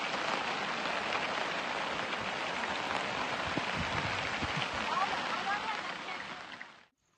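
Heavy rain pours steadily onto an open-air shelter of sheep herders, a dense, even hiss with scattered heavier drops, continuous for several seconds before cutting off abruptly at the end.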